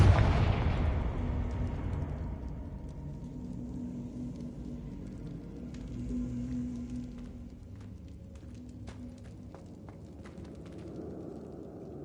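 A Confringo explosive spell in Hogwarts Legacy goes off in a loud blast at the start, then rumbles and fades into a low ambient drone with faint clicks and taps.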